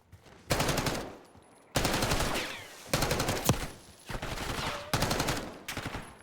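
Rapid automatic gunfire in a Black Ops 6 ranked match, loud close bursts of machine-gun fire separated by short pauses, with a sharp single shot mid-way.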